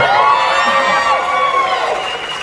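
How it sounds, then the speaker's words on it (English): Crowd cheering and shouting from a live audience at a fan event, a dense, loud wash of many voices that holds steady for the whole stretch and fades slightly toward the end. "Thanks for cheering 2 years late."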